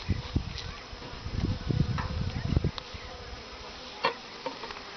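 Honeybees buzzing around a hive feeder, a steady close hum with a denser, louder swarm of buzzing early on that thins out, with a few sharp passes near the end.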